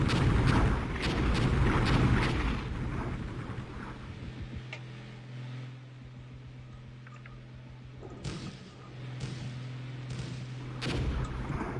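Artillery fire in the war game Armored Brigade, a town attack on the north Italian plain: sharp distant blasts cluster early, then a steady low rumble and hum, with more booms returning near the end.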